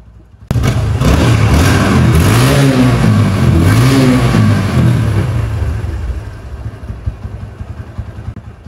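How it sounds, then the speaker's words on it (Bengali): A motorcycle with its stock silencer revs loud and close in a steady, wavering surge for several seconds, then drops to a rougher, uneven idle with occasional pops. "এটা হচ্ছে বাইকের স্টকের সাউন্ড।"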